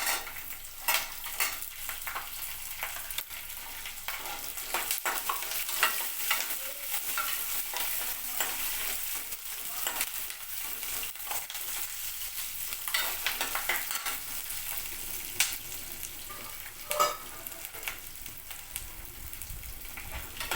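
Onions frying in a pan, a soft continuous sizzle with frequent stirring scrapes and occasional utensil clinks against the pan, fairly quiet and close, no voices.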